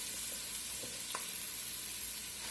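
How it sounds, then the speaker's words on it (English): Onions added to a hot pot and cooked over medium heat for French onion soup: a continuous, even sizzle close by with faint crackles, no talking. "we're going to start adding these onions. We're going to cook these over medium heat"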